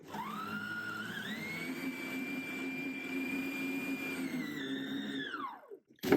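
A blender whirs steadily as it mixes a vivid blue bubble bar bath mixture, its motor pitch climbing as it spins up, holding a loud even whine for about five seconds, then winding down and stopping.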